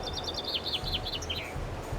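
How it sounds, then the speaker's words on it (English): Common chaffinch song from the autumn forest of the video game Skyrim: a rapid, descending run of bright chirping notes ending in a flourish, moderately near over a low ambient forest bed. "common chaffinch,"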